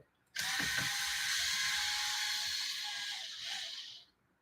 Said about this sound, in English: I'd rather just strip this bolt out and put a new one in.